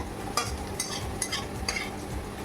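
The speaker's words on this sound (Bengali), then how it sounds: "এই পেঁয়াজটা ভেজে নিচ্ছি আমি, পেঁয়াজটা লাল লাল হয়ে গেছে" Onion fries in a pan for chicken chaap, a soft low sizzle punctuated by four or five sharp spatula scrapes at steady intervals, fairly quiet and with no talking.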